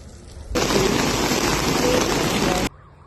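Heavy rainfall during a storm in the Apennine Mountains, a loud, dense, steady roar of pouring rain that starts abruptly and stops just as suddenly, with quieter ambience before and after.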